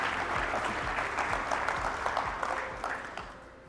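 Audience applause at a corporate technology keynote welcoming a presenter back onto the stage, a dense, steady wash of many hands clapping that fades slightly toward the end.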